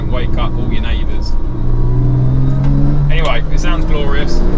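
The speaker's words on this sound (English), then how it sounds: "Porsche sports exhaust always does sound glorious." A Porsche 997 with a sports exhaust revs loudly and continuously, its deep rumbling engine note rising and falling while someone talks over it.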